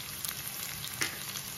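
Crushed garlic cloves frying in oil in a pan for a Nellore-style pappu charu, a steady close sizzle with a brief louder spatter near the middle, no voices.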